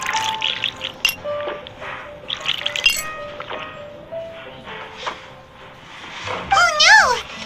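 Juice pours into a glass in Genshin Impact, a brief liquid gurgle with a few clinks of glassware under character voices and light background music.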